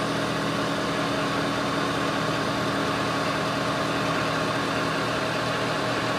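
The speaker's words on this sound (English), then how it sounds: "It just starts cackling a lot more." A 6.7L diesel engine idles with raised fuel rail pressure, a dense, steady, close clatter and rumble holding at constant loudness with no talk over it.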